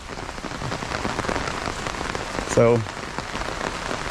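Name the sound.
rain falling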